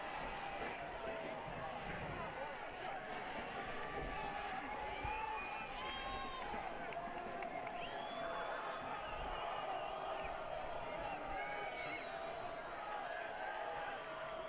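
A college football stadium crowd roars in a dense, sustained wash of cheering and whoops as the Trojans defense fires up the student section, steady and distant throughout with faint shouts rising above.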